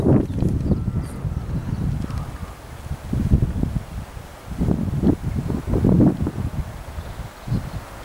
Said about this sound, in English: Hope you can hear me with this wind.